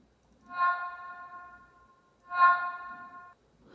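A processed siren whale sound effect for the game Dead Island 2, treated with EQ and reverb, gives two separate drawn-out tonal, harmonic cries, each about a second long with a reverberant tail.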